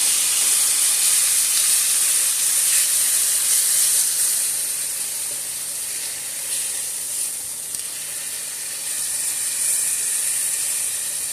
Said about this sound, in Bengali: সমস্ত মশলাগুলো ভালো করে একটু কষিয়ে নেব